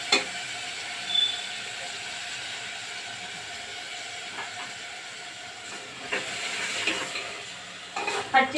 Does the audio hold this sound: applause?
no